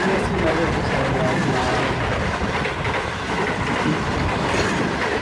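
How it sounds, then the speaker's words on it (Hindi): A Sir Syed Express train in Pakistan rolling past slowly, a steady rumble of wheels with a soft clickety-clack over the rails, continuous and fairly close, while people talk over it. "सर सैयद एक्सप्रेस है ये भाई। ये तो कुछ ज्यादा ही स्लो आ रही है।"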